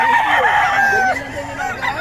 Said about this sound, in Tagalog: kung gusto niyo yung mga manok ni Boss Rod